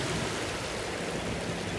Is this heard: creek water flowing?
yes